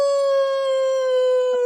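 A single long wolf howl rings out as a sound effect, a clear, steady, sustained tone held evenly for nearly two seconds without a break and without any voices.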